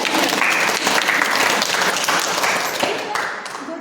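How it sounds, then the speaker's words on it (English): An audience claps and applauds at a youth girls' forum, a dense, steady wash of many hands that stays loud and then begins to fade toward the end. "We encourage you by giving claps."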